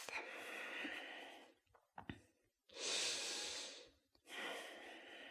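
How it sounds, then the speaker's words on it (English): Deep, slow breathing during a yoga cobra pose: three long, close airy breaths, each a sustained rush of air separated by short pauses, with no talk. "Start to deepen your breath."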